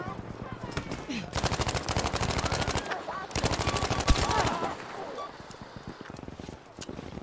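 Rapid automatic gunfire rattles in long bursts in Battlefield 5, loud and dense, with clanking reload sounds in between and someone talking over the action.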